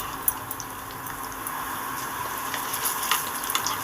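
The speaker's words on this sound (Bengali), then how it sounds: "এইভাবেই সবকটা বড়াকে আমি ভেজে নেব" Raw potato fritters (bora) fry in hot oil, making a steady bubbling sizzle with a few sharp spits and pops. The sound is close and holds throughout with no voices.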